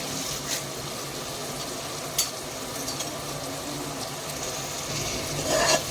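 Curry leaves and green chilli slits are stirred into onions frying in a pan for a mutton and potato curry, with a steady sizzle and occasional scraping clinks of the stirring spoon.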